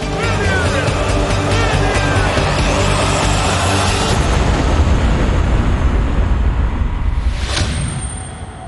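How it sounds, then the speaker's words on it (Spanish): A huge truck bomb blast at the Beirut barracks roars as a loud, sustained rumble with whooshing debris, dense and continuous before slowly fading. "Es la explosión no nuclear más grande desde la Segunda Guerra Mundial."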